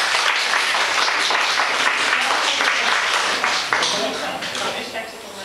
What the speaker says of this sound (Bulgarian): моля за вашите аплодисменти за госпожа Янишевска